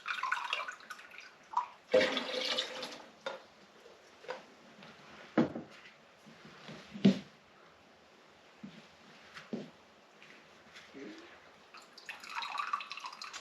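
Water drips and splashes from drained Phalaenopsis orchid pots, heard as scattered close irregular drops and trickles over near silence, with no talk.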